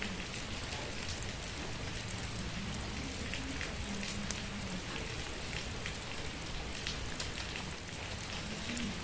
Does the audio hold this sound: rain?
yes